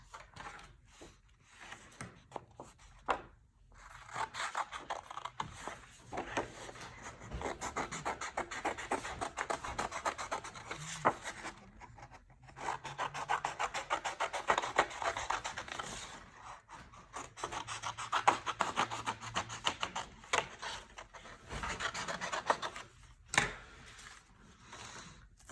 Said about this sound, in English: the first thing I'm going to do is cut this hat out